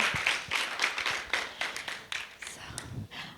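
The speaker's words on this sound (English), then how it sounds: "So one more applause to them and their ambition and their effort and investment" Conference audience applauds in scattered, uneven bursts of individual claps that fade toward the end, with some faint voices underneath.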